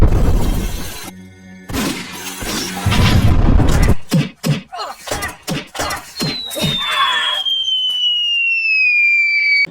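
Gunshots in a film scene ring out as a rapid series of sharp, loud cracks after heavy crashing noise, followed by a thin rising whine.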